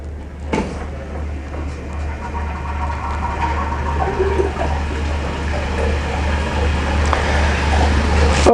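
A spin rinser dryer runs its rinse cycle, giving a steady low machine hum under a continuous watery hiss and spray that builds slightly toward the end, with a sharp knock near the start and no talk.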